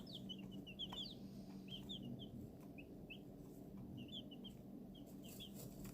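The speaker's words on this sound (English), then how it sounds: "I'll give you a few minutes just to listen to them chirp and enjoy their little habitat." A brood of baby chicks in their habitat pen, chirping in quick, high, overlapping peeps over a low steady hum, close and continuous.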